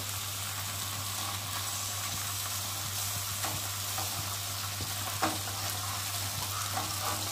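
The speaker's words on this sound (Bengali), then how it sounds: "অল্প অল্প করে দিয়ে ভেজে নেব।" Small, fresh chuno fish fry in hot oil with a steady, crackling sizzle that holds at an even level throughout, with occasional pops and stirring sounds, and a low constant hum beneath.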